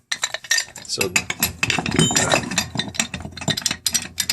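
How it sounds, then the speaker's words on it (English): Two metal wrenches tightening a brass steam radiator angle valve, with close clinks, ratcheting scrapes and metallic knocks in uneven bursts, and a brief spoken word. "Then we're going to use 2 wrenches to make it up."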